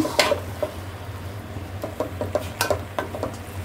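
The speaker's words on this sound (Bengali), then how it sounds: "এই যে আলুটা আমি এখন কষাচ্ছি" Potatoes being sautéed in a pan for North Bengal-style alu ghati with meat: a metal spatula scrapes and clinks against the pan in irregular strokes over a low, steady background hum.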